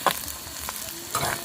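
Mustard seeds and curry leaves frying in hot oil for a potato and egg cutlet, a steady close sizzle with a couple of sharper crackling bursts at the start and near the end.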